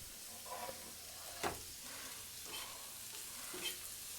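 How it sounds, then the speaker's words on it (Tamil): Chopped onions saute on a dosa pan while being stirred for tapioca adai: a quiet, steady sizzle with soft scraping stir strokes and a few sharper clinks, close by and without talk. "ஸோ அந்த வெங்காயத்தை ஆட் பண்ணி நல்லா வதக்கிக்கிறேன்."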